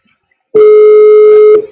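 A single telephone ringing tone on a call, a steady electronic buzz that starts abruptly and holds for about a second before cutting off, loud and close.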